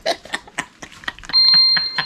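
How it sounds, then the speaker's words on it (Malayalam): A kitchen-style timer alarm rings in a sustained, loud electronic tone during a round of a laughing challenge game, starting partway through and holding steady after a stretch of lively talk. "ഇപ്പൊ ടൈമർ അടിച്ചു കേട്ടോ"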